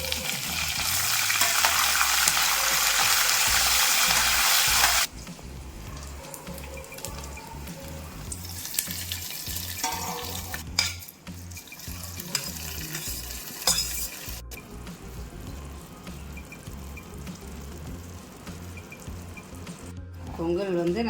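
Curry leaves sauté in a pan over an open flame, opening with a loud, dense sizzle that drops to quieter frying, with light stirring and occasional clinks.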